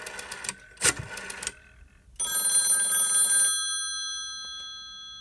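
Western Electric 302 telephone's electromechanical bell rings in short rattling bursts, then one longer ring that decays away, heard nearby at moderate volume.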